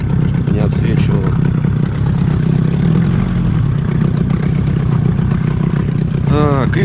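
A steady low boat motor drone runs throughout, loud and close, while trolling for zander, with brief voice sounds at the start and end.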